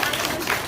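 Applause for a regional chapter president at a Korean wood-carving coloring session, a dense, steady wash of many hands clapping at close range, with some crowd noise mixed in.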